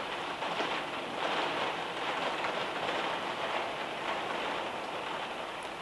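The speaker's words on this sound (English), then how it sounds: "so sorry if you can hear the rain" Steady heavy rain during a storm drums outside a room, a dense continuous hiss that stays loud and even throughout, with no voices over it.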